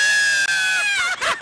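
Several people scream together in one loud, sustained shout that lasts about a second, then breaks off into a few short, ragged yells.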